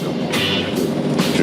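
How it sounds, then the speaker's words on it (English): Rumbling rail noise from the beer tram in Finland rolling along its tracks, a steady low clatter with brief hissing swells, heard from on board with faint voices in the background. "Welcome to the only tram in the world licensed to sell booze."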